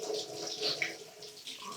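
Water runs from a tap in a kitchen as a soft, steady trickle that is fairly quiet and brief, with no speech over it.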